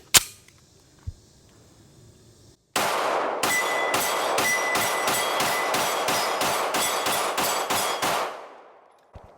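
A ported CZ P-10C pistol fires a rapid string of about a dozen loud, evenly spaced shots after a couple of faint clicks and handling sounds, each crack sharp and ringing, with no voices.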